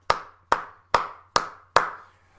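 Five sharp hand claps at an even, unhurried pace, each crisp and close with a short decay, alone against a quiet background.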